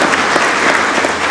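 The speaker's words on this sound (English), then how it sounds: "If you could just join me in a round of applause there." A brief burst of dense, loud clapping from an audience at a Jersey City Fire Department promotion ceremony, steady throughout with no voices standing out.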